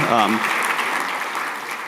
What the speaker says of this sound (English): if we could give Director Holla-Maini a round of applause for those remarks